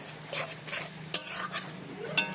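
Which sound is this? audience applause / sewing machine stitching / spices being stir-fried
spices being stir-fried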